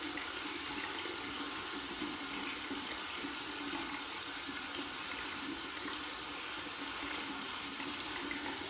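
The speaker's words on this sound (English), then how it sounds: "Run through some cold water." Cold tap water running steadily over a safety razor, a continuous close hiss and splash of flowing water at moderate level, with no talk.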